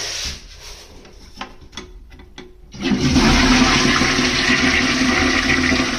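An AM.PM Hit CTA1700SC toilet bowl covered with a sheet of cardboard: soft rustles and knocks, then a loud, close rushing flush with splashing water that keeps gushing to the end.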